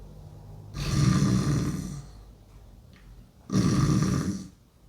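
A stage performer imitates a nose snoring with his voice: two long, loud, rasping snores, each lasting over a second, separated by a quiet pause, heard close and alone.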